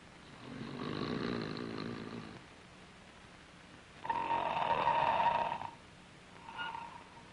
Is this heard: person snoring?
yes